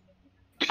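A single short cough bursts out near the end after a near-silent stretch, close and fairly loud.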